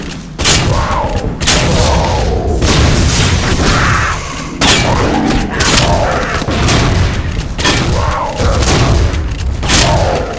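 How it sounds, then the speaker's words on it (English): Repeated heavy booms and blasts of scripted explosions in the video game Vivisector: Beast Within erupt one after another, loud and close, with brief gaps between bursts of rumbling explosions. "I think it's just scripted explosions"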